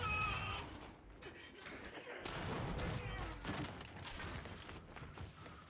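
Gunfire and impact thuds from the shooter game Gears 5, dense and busy under a constant game soundscape.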